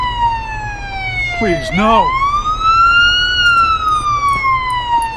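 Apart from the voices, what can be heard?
ambulance siren howling in Police Simulator Patrol Officers video game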